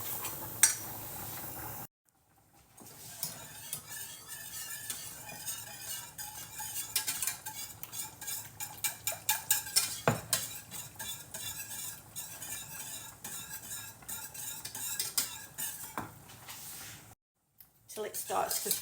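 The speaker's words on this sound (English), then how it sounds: "I'm going to add the milk to my butter and corn flour. And you've got to keep stirring it." Milk is stirred into a butter and corn flour roux for bechamel sauce, with a spoon scraping and clinking steadily against the pan in close, irregular strokes that pause briefly near the start and end.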